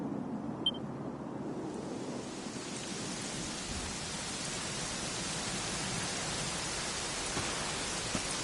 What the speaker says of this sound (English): it was raining like this the last time I ever saw her